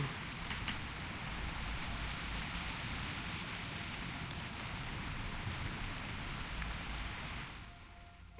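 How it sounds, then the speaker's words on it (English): Steady game rain ambience in World of Warcraft turned up to its maximum setting, a dense continuous hiss of falling rain with a few faint drip-like ticks, fading out at the very end. "I'm gonna put rain to max."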